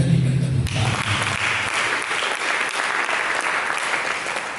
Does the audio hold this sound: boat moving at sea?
no